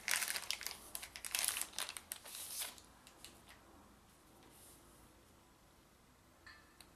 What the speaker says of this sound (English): Let's open up the packet.